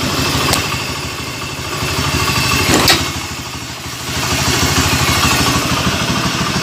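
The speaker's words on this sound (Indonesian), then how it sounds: "Berbetnya itu tambah parah. Bahkan dia mati kalau digas ya." A Honda Beat FI scooter engine runs roughly under throttle, a loud close uneven rumble with sputtering surges and dips in level, stumbling as if about to stall, with no talking.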